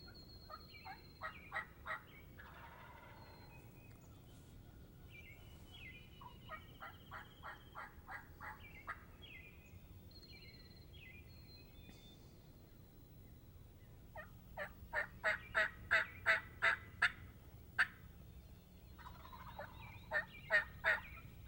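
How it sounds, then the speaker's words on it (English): A wild turkey gobbles in the spring woods, its rapid rattling calls coming from a distance in repeated bursts over a quiet outdoor background, with a louder, closer-sounding run of gobbles later on. "Boy, he's got a pretty gobble."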